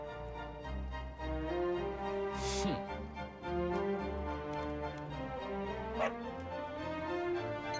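In the Dragon Quest XI video game, a dog barks and whimpers over steady game music, with one sharp yelp standing out near the middle and a fainter cry later.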